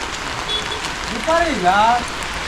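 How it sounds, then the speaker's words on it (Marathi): Steady heavy monsoon rain falls in coastal Konkan, a continuous hiss through the whole stretch, while voices talk over it in the foreground. "हा पाऊस होतो"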